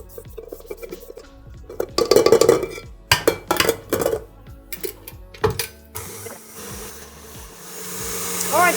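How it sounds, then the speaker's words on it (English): Electric mixer whirring through coconut biscuit mixture in a kitchen, coming in bursts with clinks and scraping against the bowl between runs, then a steadier hum toward the end. "turn the mixer on and let it become super light and fluffy"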